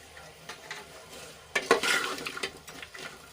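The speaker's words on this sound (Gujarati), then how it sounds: "સરસ રીતે મિક્સ કરીને આપણે એને થોડી વાર માટે સાંતળી લેવાનું છે" A spoon scrapes and stirs through potatoes and crushed peanuts in a pan while oil sizzles gently, with a few clinks against the metal.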